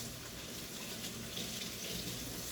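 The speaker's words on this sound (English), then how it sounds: "Constantly wash your hands." Water runs steadily from a tap as hands are washed beneath it, a continuous close splashing hiss with no pauses.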